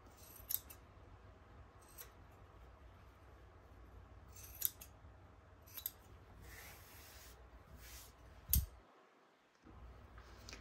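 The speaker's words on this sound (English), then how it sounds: "I am just gonna trim it across, and then I'm gonna clip the corner, but not getting close to the stitch line" Scissors snip and trim a fabric seam allowance and clip corners, several separate faint crisp cuts spaced a second or two apart over quiet room tone.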